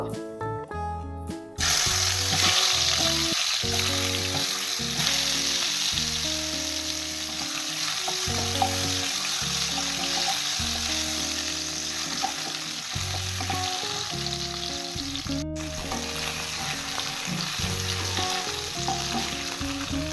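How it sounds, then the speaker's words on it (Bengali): Potatoes frying in mustard oil in a wok, a loud continuous sizzle close up, punctuated by rhythmic scraping and stirring strokes and a brief clatter, with no voices. "তেল গরম হয়ে গেলে আলুগুলো ভেজে নেব"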